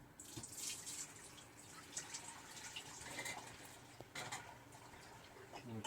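Raw goat milk is poured into jars at home, a soft, continuous liquid trickle and splash with small drips, fairly quiet and close, with faint background sounds.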